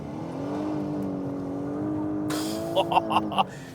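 A 2024 Lexus LS500h hybrid sedan accelerates hard from a brake-boosted launch, a rising whirring engine and motor note building steadily from inside the cabin, with voices exclaiming toward the end.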